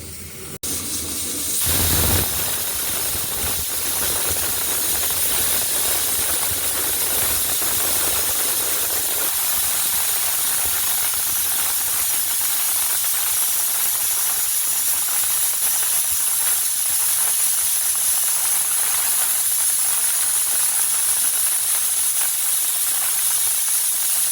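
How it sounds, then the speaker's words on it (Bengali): A pressure cooker cooking meat gives off a loud, steady hiss of escaping steam that holds unbroken for the whole stretch after a brief start, with no voices. "মাংসটা হচ্ছে প্রেশার কুকারে"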